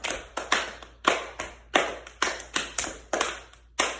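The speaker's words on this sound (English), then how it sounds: "let me see you clap your hands" Crowd at a school pep rally clapping hands together in unison, about a dozen sharp, loud claps in a steady rhythm with brief gaps between them, no talking.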